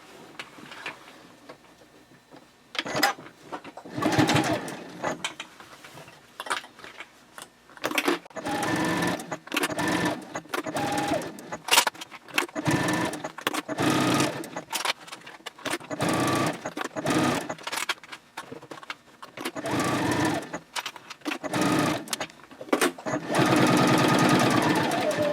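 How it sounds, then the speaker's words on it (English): A sewing machine stitches the inner perimeter of a fabric baby sling in repeated short and long bursts, loud and close, with brief pauses between runs. "And now I can go ahead and sew the inner perimeter."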